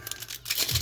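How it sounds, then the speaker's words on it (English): A dry block of Otoki Jin Ramen Spicy instant noodles is snapped by hand, giving a brief crinkling crunch of brittle noodles and packaging, close up and short. "I had to break the block because it will not fit in my containment"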